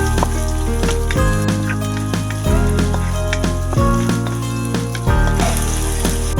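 Garlic and onion sautéing in chicken oil for chicken caldereta, a loud continuous sizzle with crackling pops, heard close, with music playing throughout.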